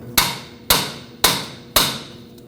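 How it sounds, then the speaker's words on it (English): A hammer strikes a pry bar set against a metal steering rack boot clamp on a 1998-2011 Ford Ranger, four sharp, evenly spaced metallic whacks, each ringing out and fading before the next one lands. "And the easiest way to do this is with a pry bar and a hammer."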